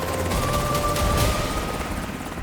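A helicopter's rotor and engine roar in a steady, loud wash, with a faint whine running through it, as the aircraft takes off.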